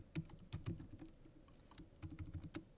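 Steady typing on a computer keyboard, a run of quick close key clicks with a short pause midway before the tapping resumes, with no talking.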